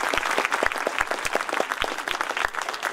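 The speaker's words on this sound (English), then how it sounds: "Please give them a big round of applause." An audience at a school annual function for Class VIII applauds with steady, dense clapping that sounds close and sustained throughout, with a few sharper individual claps standing out.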